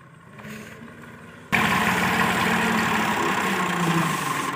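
A tractor engine on a village farm runs at a quiet, muffled rumble, then abruptly surges into a loud, steady roar that continues to the end.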